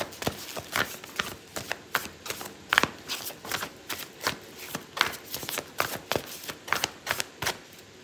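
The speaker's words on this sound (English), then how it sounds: "I'm going to pull out an oracle card for you" Oracle cards shuffled in an irregular run of crisp riffling bursts and taps for about eight seconds, close and fairly soft, with no talking.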